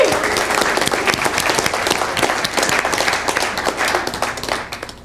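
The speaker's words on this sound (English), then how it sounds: "Please give them a big round of applause." Audience applause for event volunteers at a Startup Grind New York City gathering, loud dense clapping from a large crowd sustained throughout before tapering slightly at the end.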